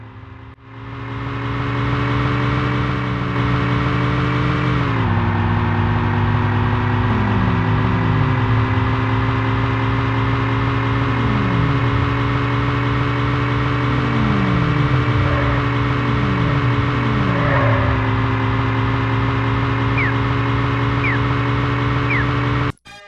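Synthesized car engine from the SNES racing game Test Drive II: The Duel, a loud continuous buzzing drone that climbs in pitch and drops with each gear shift over and over, alone without speech.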